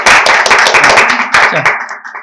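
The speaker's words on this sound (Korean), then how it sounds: "박수 한번 치시죠." A small audience of about three people at a Korean open-market seller training session claps loudly and briefly at close range, a quick patter that fades out, with a voice speaking at the start.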